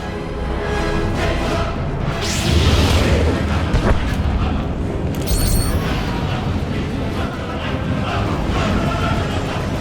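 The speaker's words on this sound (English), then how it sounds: "Enemy artillery incoming!" Artillery shells burst across a beach battlefield in Star Wars: The Old Republic, a continuous rumbling barrage of booms and blasts with a brief sharp crack midway, loud and dense throughout.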